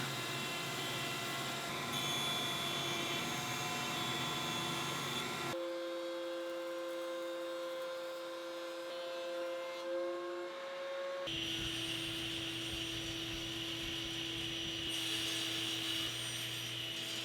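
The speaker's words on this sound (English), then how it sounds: "I'm going to use my joiner to flatten one face of all the legs" A jointer flattening the faces of walnut and cherry table legs, a steady machine hum and whine with changes in pitch and texture as boards pass over the cutter, continuous and fairly loud, with no talking.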